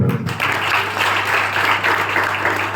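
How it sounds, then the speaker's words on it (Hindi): An audience at a college guidance event claps in steady, fairly loud applause over a constant low hum from the sound system, beginning abruptly after a brief pause. "ताली बजाओ मैडम"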